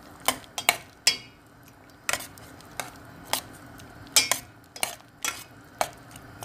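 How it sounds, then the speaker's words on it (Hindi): A spoon stirs and mixes vegetable soup with cabbage and bell pepper in a pot, giving irregular scraping clinks and knocks against the metal, close up with no talk. "बंद गोभी, अच्छी तरह से मिक्स करेंगे।"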